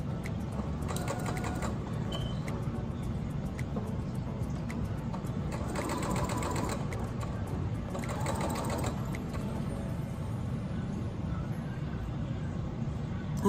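A sewing machine stitches a mesh V-neck bodice in a continuous, close whirring run that speeds up in short bursts, with faint talk underneath.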